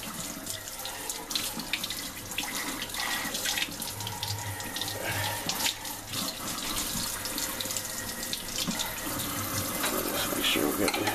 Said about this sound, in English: what we're going to do is just going to rinse out the borax